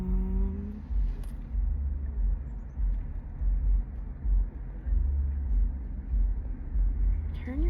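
A parked car's engine idles with a steady low rumble that sits close and fairly loud, steadier in some moments than others, while a person talks inside the car.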